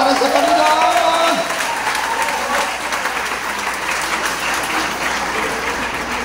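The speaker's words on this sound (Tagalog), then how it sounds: "Pwede po ba na mas palakas sa palakpak para sa Panginoon?" Congregation applause at a youth revival church service, loud dense clapping that swells early then settles, with a voice and some tonal sounds briefly over it at the start.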